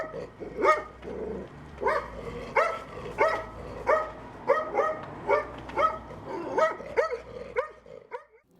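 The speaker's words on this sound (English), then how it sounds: "with a slightly excited dog adding extra drama" An excited dog barks in a quick series of about a dozen sharp, fairly close yaps and woofs, some with a whimpering edge, by a hotel fountain near a road.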